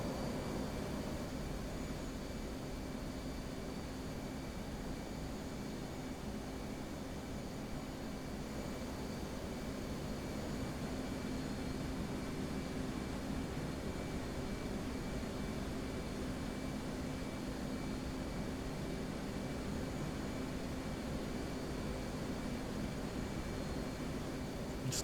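An F/A-18C jet in flight in the combat simulator DCS World gives a steady, unbroken engine and airflow drone, a constant hushed roar that holds at one level throughout.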